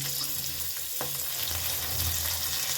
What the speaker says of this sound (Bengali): চারটে কাঁচা লঙ্কা ভালো করে একটু এটা ভেজে নিলাম